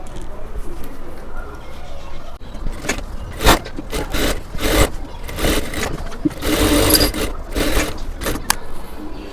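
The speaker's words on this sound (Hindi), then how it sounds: "इस पे मैं यहाँ तक सिलाई लगा लेती हूँ।" A sewing machine stitches kurti fabric in short, uneven bursts of whirring, paused between runs, over faint background noise and a soft voice.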